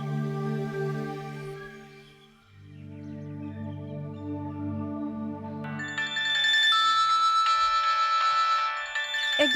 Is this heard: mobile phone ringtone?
yes